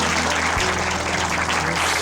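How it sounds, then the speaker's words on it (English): A round of applause at a university doctoral program gathering, a thick, loud, continuous roar of many hands clapping together without a break. "I'd like a round of applause."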